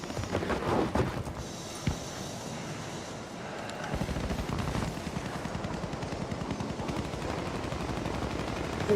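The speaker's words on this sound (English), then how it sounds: "I hear gunfire" Sustained gunfire in the Warzone video game, with a continuous stream of rapid automatic shots running nearly throughout and heavier bursts near the start, loud and dense with no voices.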